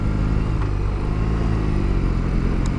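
A BMW R18 motorcycle pulls away off the line in first gear, its big twin engine droning loud and steady at close range with a constant rumbling tone and no voices.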